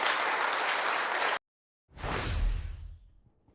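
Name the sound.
crowd applause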